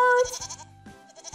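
A goat bleats on a farm, a short wavering cry close by, followed by a few softer broken bleats, with no talk.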